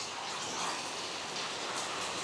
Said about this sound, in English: Just keeps freaking raining.